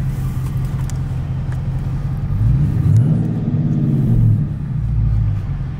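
A passing car driven by a woman, its engine rumble swelling and revving up twice from mid-distance before easing off, heard alone without talk.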